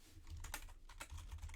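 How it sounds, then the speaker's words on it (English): Fast clicking keystrokes on a computer keyboard while messaging in Discord, quiet and close with a few sharper key taps, no talking. "I'm typing in Discord as I record."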